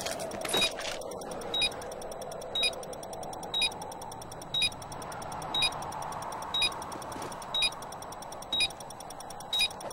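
A planted bomb in a tactical shooter video game beeps with a steady, evenly spaced electronic tick about once per second, heard over a low background hum with no talking.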